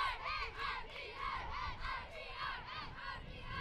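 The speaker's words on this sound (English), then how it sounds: "very loud cheering from the Czech dugout" Loud, rhythmic cheering and chanting from the Czech Republic softball dugout during a game against Great Britain, a group of voices shouting in repeated bursts close to the microphone.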